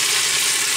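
Tomatoes hitting garlic in a hot pan for a mussels dish with white wine and saffron, giving a steady, close, fairly loud broadband sizzle that holds evenly through the short moment, with no talking.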